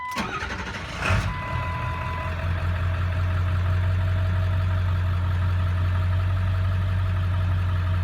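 A 2002 Ford F250 diesel engine cranks and catches about a second in, then settles into a loud, steady low idle hum close by.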